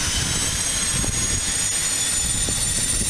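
An aircraft engine running at Aurora Municipal Airport, a loud constant roar and high whine filling the whole span, steady and close.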